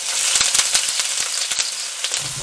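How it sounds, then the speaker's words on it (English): Onions frying in a hot pan for easy fried rice, a steady close sizzle with quick crackling pops scattered across it. "Here goes the onions first."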